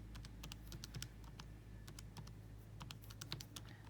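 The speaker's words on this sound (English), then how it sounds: "Hopefully I'm typing all this in correctly." Numbers are tapped into a calculator in quick, quiet, irregular key clicks over a low steady hum, with no speech.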